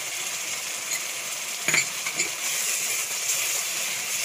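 Poppy seed paste being stirred into a curry frying in a pan, with a steady bright sizzle throughout and a few close scraping clatters of the spoon against the pan.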